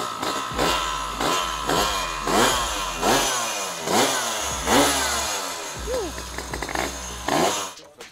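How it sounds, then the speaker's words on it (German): A Vespa smallframe scooter engine runs just after being kick-started, its two-stroke buzz rising and falling in repeated revving bursts, loud and close, with people talking over it. "Also Motor läuft."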